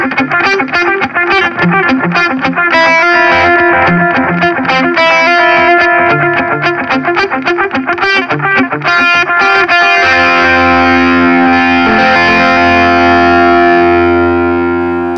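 Framus Panthera Pro electric guitar through heavy distortion plays fast chugging riffs with palm-muted rhythmic bursts, then lets a big sustained chord ring out; loud, close and continuous with no talking.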